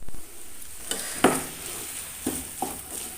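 Eggs go into a frying pan and get stirred, with a low steady sizzle punctuated by a few distinct scrapes and clicks of a utensil against the pan, close and with no talking.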